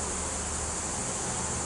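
Honey bees at a hive fill the air with a steady, dense hum and hiss, loud and close, unbroken and with no voices.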